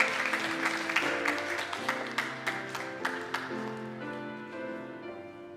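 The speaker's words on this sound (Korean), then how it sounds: "우리 들어가실 때에 한 번 더 박수로 격려해 주십시오." A Korean church congregation at a Sunday service claps in a steady beat over sustained keyboard music, the claps evenly spaced and moderately loud, fading slightly toward the end.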